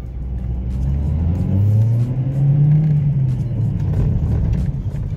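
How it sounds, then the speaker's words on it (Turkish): A Seat Cordoba's engine revs in aggressive mode, a loud, close, continuous rumbling drone that rises and falls in pitch over several seconds, with no talking. "araba ısındığı zaman çok güzel sesi var, or böyle horluyor"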